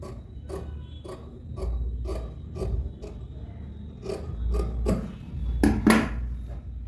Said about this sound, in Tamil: இப்போ அதை நெக்கை கட் பண்ணி எடுத்துடுறேன்